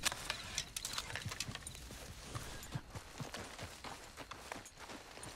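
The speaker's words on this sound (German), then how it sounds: "Pferd verfolgt uns." In Red Dead Redemption 2, a horse gallops in irregular, fairly quiet hoofbeats over muffled ambient noise, with no speech.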